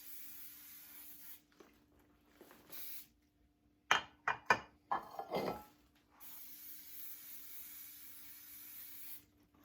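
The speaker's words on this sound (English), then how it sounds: "Don't forget to spray your pans." Bursts of aerosol cooking spray hiss at close range onto metal baking pans, separated by quiet gaps and a few clanks of a pan being handled.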